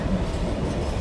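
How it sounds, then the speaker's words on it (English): A Deutsche Bahn train passing at a level crossing, a brief close rumble of wheels on rails with rhythmic low clatter, loud and steady for about a second. "we await the train to honk past like a big metal goose, so that we can cross the crossing"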